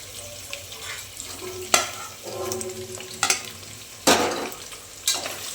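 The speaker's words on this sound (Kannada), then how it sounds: "ಅದನ್ನ ಇವಾಗ ಒಗ್ಗರಣೆಗೆ ಹಾಕ್ತಾ ಇದ್ದೀನಿ." Turmeric-coated mutton sizzles in hot tempering oil while a spoon scrapes and stirs, with four sharp bursts of louder spitting spread across the frying.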